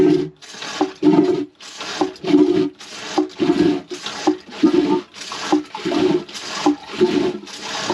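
Repeated rhythmic pumping strokes of a Jabsco marine toilet pump, each a gurgling, sloshing surge of water with brief pauses between, about a dozen strokes, close and loud.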